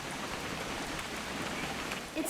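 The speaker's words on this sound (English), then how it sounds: "It's gonna rain the whole weekend," Steady rain falls in What Remains of Edith Finch, a constant hissing patter of drops on surfaces at an even level, with a faint small knock near the end and no speech.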